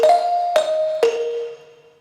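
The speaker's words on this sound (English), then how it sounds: "I'm really fond of the acoustic reverb, because in the end it sounds like this." A synth lead melody soaked in acoustic-style reverb plays three sharp plucked notes, each tail ringing on and blooming before fading into a long smooth decay, heard alone.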